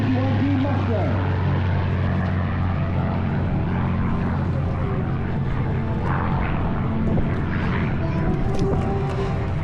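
Bell P-63 King Cobra propeller fighter, a World War II plane with its engine mounted behind the pilot, flying at the March ARB airshow, giving a steady droning engine hum throughout beneath a commentator's voice.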